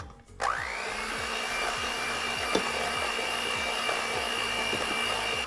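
Custard mixture with vanilla for Greek ekmek kataifi gets whisked by a motor, a steady close whir with regular rhythmic pulsing strokes running the whole time.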